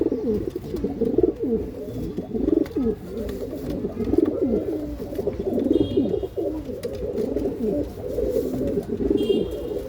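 Domestic pigeons, including a high-quality male of a fancy breed, coo repeatedly in a loose rhythmic chorus of overlapping throaty calls, fairly close, with no voices over them.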